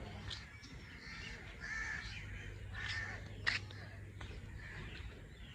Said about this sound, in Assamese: এনি টাইম চৰাই চিৰিকটিৰ মাত, যিহেতু ডিব্ৰুগড়ত শুনিবই নাপাওঁ, ইয়াতে আহি শুনি থাকোঁ